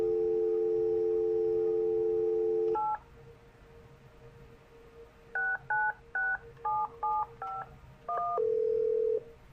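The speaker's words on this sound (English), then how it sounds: "We tested AAR by calling from Winnipeg to a Halifax phone with no roaming." A long-distance phone call from Winnipeg to a Halifax number on an enterprise phone system: a steady dial tone, then a quick series of clipped touch-tone beeps as digits are dialed, ending in a sustained single tone.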